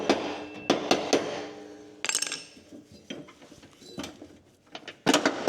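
Metal tapping on lawn mower pulleys during winter maintenance: a few sharp clinks and knocks come at irregular intervals, close and fairly loud, with faint handling noise between the strikes.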